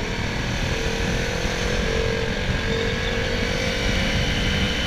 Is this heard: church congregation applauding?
no